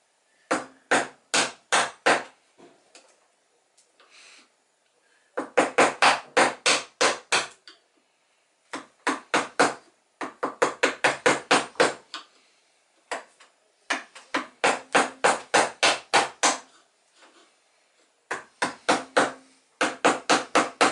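Sharp mallet taps drive a wood chisel into wood in quick rhythmic runs, cutting a groove for a toy boat, each burst separated by short pauses, close and clear.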